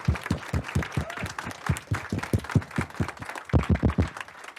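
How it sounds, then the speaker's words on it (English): A small audience at a club meeting gives a round of scattered, rhythmic clapping that swells and dips for a few seconds, with no voices over it. "Can we give them a big round of applause?"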